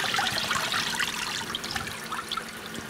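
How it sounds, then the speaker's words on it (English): Tap water runs steadily from a faucet while a lathe chuck is being cleaned, a continuous close splashing trickle with no talk over it. "let me go ahead and turn this water on"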